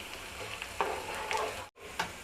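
Spices sizzling and frying in hot oil for pulihora, a steady soft crackle with a few spoon stirs, close and fairly quiet with no voices.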